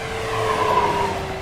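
An electric FMS F4U Corsair RC airplane, a large 1700mm model, whines past overhead with a rising-and-falling electric motor tone, moderately loud and alone for a brief moment.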